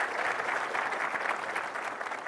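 An audience at a tech conference session claps steadily, a dense even patter of applause heard alone throughout.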